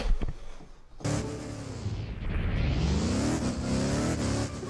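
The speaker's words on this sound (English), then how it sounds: "I can hear my car." A car driven blindfolded in Liberty County starts up sharply after a quiet second, then its engine revs loud and close, the pitch swooping down and climbing again under acceleration.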